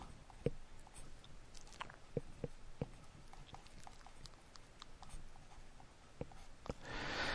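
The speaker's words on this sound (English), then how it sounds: "Just going to write it all down." A pen writing math by hand on paper, with soft scratches and scattered light taps through a quiet stretch and no talking.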